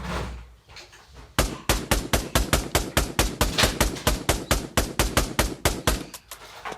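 Pistol fire in the VR shooter Pavlov: a rapid, evenly spaced volley of roughly twenty loud, sharp shots in steady rhythm, followed by a quiet tail.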